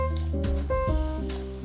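Oiled bread dough worked by hand gives soft wet squishing and sticky slaps, close and quiet, alongside tonal background music.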